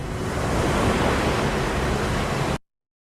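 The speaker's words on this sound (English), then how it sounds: "Before we see images of Normandy, we hear the waves crashing on the beach, creating a bridge to the past." Ocean waves crash on the Normandy beach in a film scene from Saving Private Ryan: a loud, dense, continuous roar of surf lasting a few seconds before cutting abruptly to silence.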